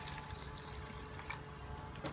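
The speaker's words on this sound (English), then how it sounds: "And then in goes my half a pint of cold water." Cold water pours into a measuring jug in a home kitchen, a soft continuous trickling gush heard close but faint, with no voices.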